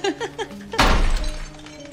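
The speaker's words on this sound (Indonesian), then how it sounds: "tiba-tiba terdengar suara kaca pecah diikuti dengan mati lampu" Glass shatters in a horror film: a sudden loud crash bursts in after a few soft tones, followed by a scatter of tinkling debris that fades within a second.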